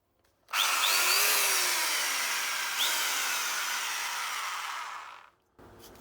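A freshly greased jackhammer running in drill mode: a loud, steady, grinding whir that holds for about five seconds without a break, then cuts off, with no voices over it.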